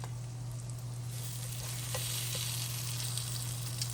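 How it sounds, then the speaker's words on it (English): Scrambled eggs fry in a pan with a soft, steady sizzle up close, slightly louder in the second half, over a low constant hum. "So we're just gonna do some scrambled eggs here with this meal."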